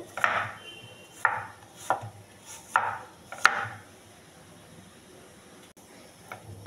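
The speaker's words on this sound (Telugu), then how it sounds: "యాపిల్ కట్ చేశాను" Knife chopping an apple into small pieces on a board, five or six separate crisp cuts spaced about a second apart, close and clear, followed by near quiet.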